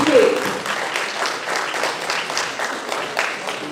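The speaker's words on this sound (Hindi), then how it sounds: "लगातार तालियां बजती रहनी चाहिए" A crowd applauds steadily at an appointment-letter ceremony for newly hired city managers, with dense, even clapping throughout and faint voices underneath.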